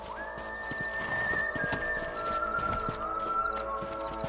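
Steady clip-clop of horses' hooves at a trot in the video game Red Dead Redemption, close and continuous, over a sustained tonal drone and faint background ambience.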